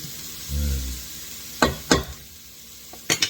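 Onions frying in a pan give a low sizzle, broken by a few sharp, close clatters of stirring, two near the middle and a quick pair at the end.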